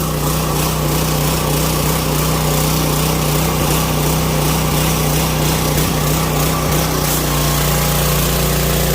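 A Simpson 3000 psi gas pressure washer engine runs loud and steady right after a pull start, a constant close mower-like drone warming up with no break or change.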